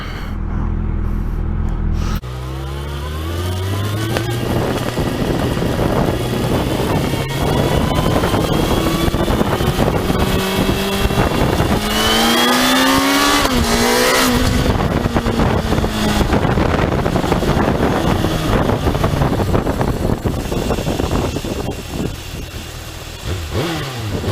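A 2019 636 sport bike ridden with a helmet or handlebar camera, engine revving up through the gears with rising whines, strong wind rush over the microphone, loud and continuous.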